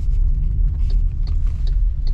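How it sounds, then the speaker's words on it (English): A car rolls past on a rural road beside crop fields, its low tire-and-engine rumble close and steady throughout. "Let this car pass me."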